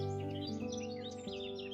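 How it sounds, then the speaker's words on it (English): Birds singing in a forest: faint, rapid chirps and tweets flutter above a steady tonal musical bed, soft and distant throughout. "the melodious songs of the birds"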